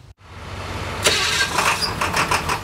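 A school bus engine cranks after a brief silence, then catches and settles into a loud, rough, throbbing idle close by.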